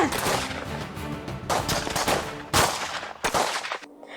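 Gunshot sound effects in a school stage play, heard as several loud sharp bangs in a quick irregular burst over a noisy hall, with the last shots trailing off.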